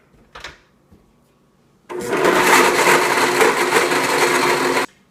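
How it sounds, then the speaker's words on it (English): A blender runs on high, whirring loudly and steadily for about three seconds as it blends homemade nut milk with a little vanilla extract, then stops abruptly after a brief clack beforehand. "So I recommend blending on high for about 30 seconds."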